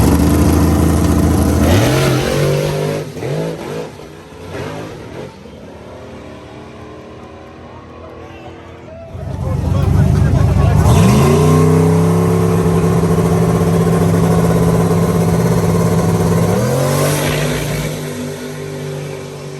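A powerful turbocharged Zephyr drag car roars past, rising and falling in pitch, with a quieter stretch before a second loud, sustained howl of acceleration as the tires wad up.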